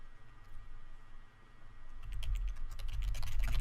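Keystrokes on a computer keyboard, quiet and sparse at first, then growing into a denser run of close, crisp clicks over a low background hum.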